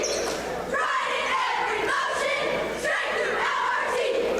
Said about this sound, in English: They're going to get the cheer here from this Indian squad